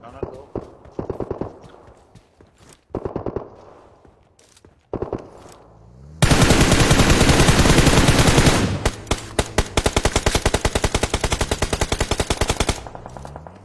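Rapid bursts of automatic gunfire ring out in a video game firefight, loud and sustained in the second half after scattered shorter volleys, with players talking over the opening stretch.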